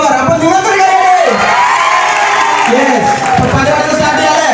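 College students at an Onam celebration cheer, whoop and applaud loudly as a dense crowd, with shouting voices throughout.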